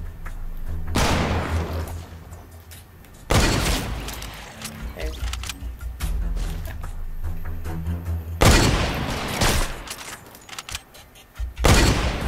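Sniper rifle gunfire in a first-person shooter game, several loud, sharp blasts with booming tails spaced a few seconds apart, with game ambience between shots.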